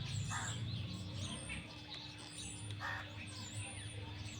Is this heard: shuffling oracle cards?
no